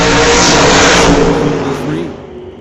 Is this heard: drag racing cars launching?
yes